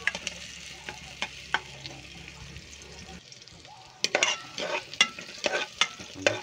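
Clams in a pan with garlic and chili are stirred, giving a soft frying sizzle and then a run of close, irregular scraping and clattering strokes near the end, with no talking.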